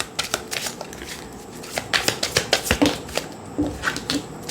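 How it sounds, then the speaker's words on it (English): A deck of tarot cards is shuffled by hand with repeated crisp riffling flicks and soft slaps, close and fairly loud, in irregular bursts. "We're going to now shuffle with this deck."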